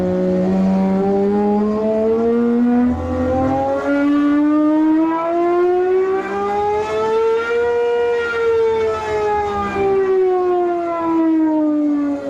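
A Gordon Murray T.50s Niki Lauda with a Cosworth engine revs toward 12,500 RPM, its loud, high-pitched wail climbing smoothly, peaking, then easing back down in one long sweep, heard alone and up close.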